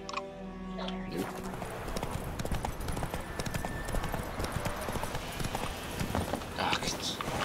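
Roach, a horse in a video game, clip-clops with steady, close hoofbeats that run throughout, with a brief whinny-like tone near the start and a voice talking over the hooves.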